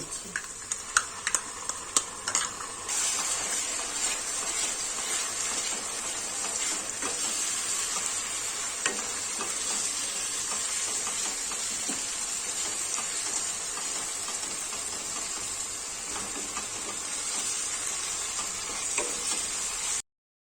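Chicken with turmeric fried and stirred in a pan for a capsicum chicken dish: a continuous soft sizzle with scraping and clicking stirring sounds, loudest in the first few seconds, then a steady hiss.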